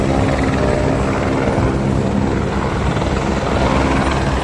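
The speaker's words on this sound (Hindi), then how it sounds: "यहाँ पर हेलीकॉप्टर आ रहे हैं रेगुलर।" Helicopter flying near the helipad at Kedarnath in the mountains, a steady loud rotor and engine roar mixed with strong wind, continuous throughout with no talk.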